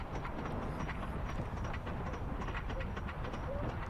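Wooden Viper roller coaster at Six Flags, a Coney Island Cyclone clone running PTC trains, gives a steady, dense rumble and rattle of the cars on track with a faint clatter throughout, and no speech.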